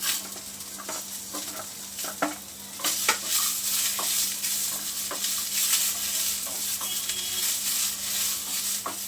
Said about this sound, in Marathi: कांदा परतता परतताच ह्याच्यामध्ये आपण घालूया आलं लसूण